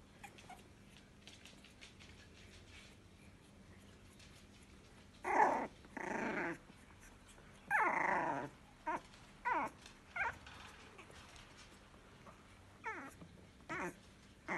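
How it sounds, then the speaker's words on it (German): Four-week-old puppies growl and yap in short, loud bursts close by, a cluster of snarling yelps separated by quiet gaps. "Ich fange schon an zu bellen."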